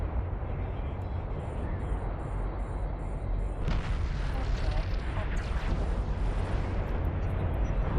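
A loud, rumbling explosion in the space game EVE Online during a combat site run, with a broadband roar swelling midway and sustained dense low rumble throughout, no speech.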